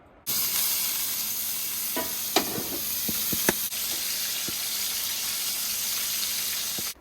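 Steak topped with buttery steakhouse seasoning and garlic-seasoned Brussels sprouts sizzle in a pan at a winter forest campground, a steady close hiss dotted with sharp pops and spatters, no voices.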